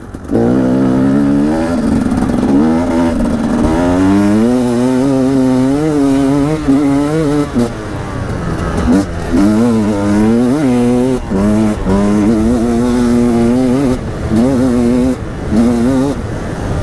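A 2016 Husqvarna 300 TE enduro motorcycle accelerates at full throttle, loud and close, its engine note climbing repeatedly as it pulls through the gears, with brief dips between surges and no talking over it.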